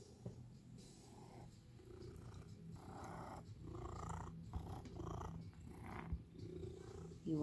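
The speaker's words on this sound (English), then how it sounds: "This is the face of a kitten" A kitten purrs close by in a steady, low rumbling rhythm that continues throughout and keeps a constant level in a quiet room.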